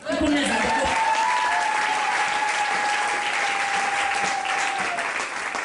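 A church congregation breaks into sustained, dense applause that is loud and close and holds steady for several seconds. A voice carries over the clapping.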